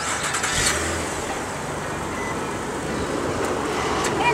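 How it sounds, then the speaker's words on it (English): A 2008 Nissan Altima's engine cranks and catches on push-button start, then settles into a steady idle, close and moderately loud. "It has easy push start startup."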